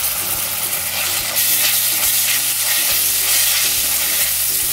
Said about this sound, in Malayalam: ഇനി അതിലേക്ക് ഞാൻ ജിഞ്ചർ ഗാർലിക് പേസ്റ്റ് ഇട്ട് കൊടുക്കുകയാണ്